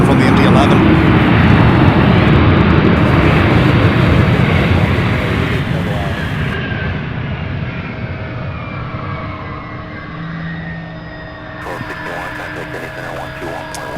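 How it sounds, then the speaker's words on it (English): A UPS McDonnell Douglas MD-11 heavy freighter's jet engines roar loud and close, then fade gradually into a softer whine with a shifting tone, while a voice talks over it. "Incredible sound coming from the MD-11."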